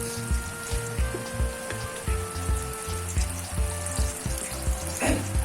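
Garlic frying in a pan, part of a home-cooked kamaru dish: a steady close sizzle over a rhythmic low thumping hum, with faint tonal background noise and no talk.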